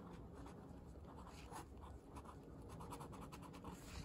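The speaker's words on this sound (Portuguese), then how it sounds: "vou escrever aqui pra vocês verem" A new pen writes on paper up close, soft scratchy strokes coming in quick irregular bursts, faint and continuous with no voices.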